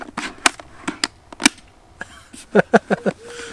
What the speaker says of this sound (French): Le petit bruit super satisfaisant, c'était quand tu fermes le casque.